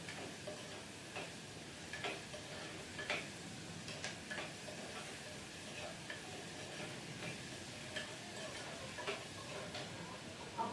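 Grated coconut and mustard seeds sautéing in coconut oil with a pinch of salt, giving a quiet, steady crackle with faint, evenly spaced pops and ticks over a low background hiss.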